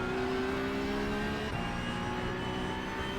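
Porsche 911 Cup car (992.2) powering out of a turn at Sebring in a racing video game, a steady loud engine drone with droning harmonic lines held throughout, slight shift midway, no voices.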